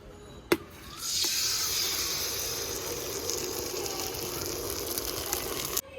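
Steady hiss and crackle of river fish (sarpunti) frying in hot oil, starting with a sharp clatter and settling into a continuous sizzle, close and fairly loud.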